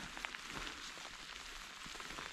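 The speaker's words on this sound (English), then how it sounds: "The rain." Steady rain patters down through a slushy winter forest at Pinchot State Forest, a continuous soft hiss of drops with no voices.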